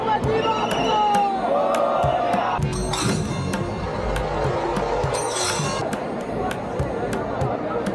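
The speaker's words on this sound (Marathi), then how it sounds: "गर्दी, बाप रे बाप, गर्दी इतकी वाढत चालली ना" A large festival crowd packs the Girgaon Gudi Padwa procession, a dense, loud, continuous roar of voices with cheers and whoops, sharp clacks and some tonal music-like sounds rising through it.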